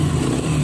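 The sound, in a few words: Yamaha XTZ motorcycle engine running after carburetor cleaning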